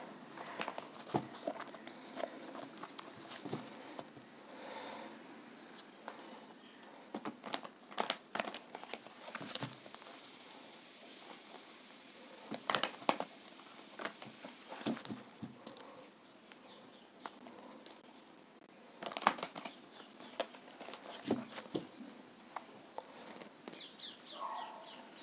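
Tarot cards are shuffled by hand in a quiet room, with soft papery riffles, slides and crinkles recurring in uneven bursts over about twenty-five seconds, close and fairly faint, with no talking.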